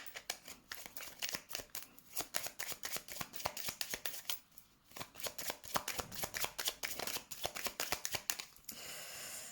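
Lenormand cards being shuffled for a reading, a dense run of quick riffling flicks and slaps close by, with brief pauses and a steadier rustle near the end.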